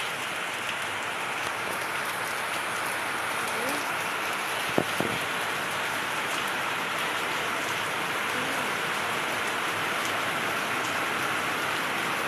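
Heavy rain pours outside a window as a dense, even roar of falling water that holds steady throughout, with one brief knock partway through.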